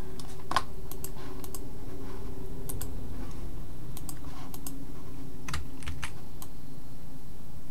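Keystrokes on a computer keyboard during Glowforge passthrough software work, a steady run of light clicks with scattered sharper taps over a low background hum, close and alone without talk.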